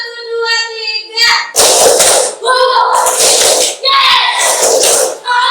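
A classroom of children claps hands in a counted one-two-three pattern during a school lesson, with sharp bursts of claps separated by short pauses, and the teacher's voice between the rounds.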